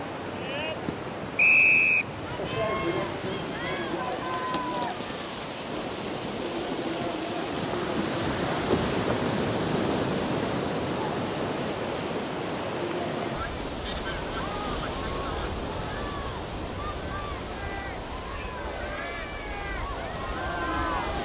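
Ocean surf rolls continuously at a beach during surf lifesaving activities, a broad wash of breaking waves with wind buffeting the microphone, a brief sharp whistle near the start, and people talking intermittently over it.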